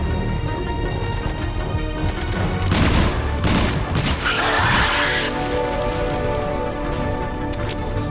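Sustained gunfire from a squad battle in Mass Effect 3, rapid bursts and rattling shots piling up continuously over a dense, loud game soundscape with no talk.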